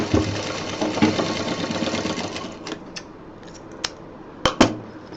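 A sewing machine double stitching a fabric college bag runs in a close, steady rapid whir for a couple of seconds, then gives way to scattered clicks and a few sharp knocks. No voices are heard.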